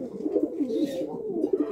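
A pair of Kashmiri Lotan pigeons coo softly and close by, with low rolling, throaty calls repeating in an uneven rhythm.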